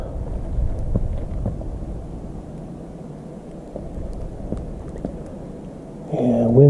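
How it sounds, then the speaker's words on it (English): Wind blows during a light snowstorm outdoors, a steady low rumbling gust against the microphone that eases slightly midway, with a brief louder noise at the very end. "Yeah, you can hear the wind now."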